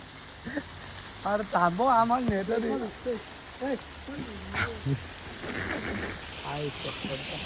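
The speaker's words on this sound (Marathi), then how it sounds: "अरे भाई जोरान आला पाऊस" Steady heavy rain patters in the background while several people talk loudly and excitedly over it.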